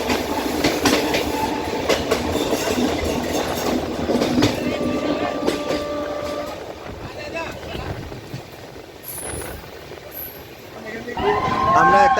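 A moving passenger train on a Vizag trip rumbles and rattles steadily outside an open window, loud and close with rhythmic clacking of the carriages, while passengers talk nearby.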